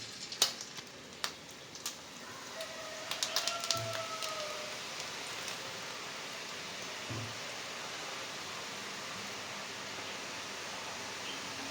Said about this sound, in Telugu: అన్ని చక్రాలు కూడాను ఇలాగే చక్రాల గిద్దలతోటి నూనెలో ఒత్తేసి తీసుకోవడమే